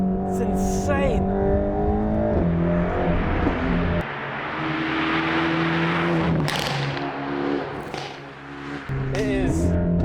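A Mercedes-AMG GT Black Series in Sport Plus mode roars loudly and steadily with engine and exhaust noise, the pitch shifting through revs and gear changes, while a person talks over it.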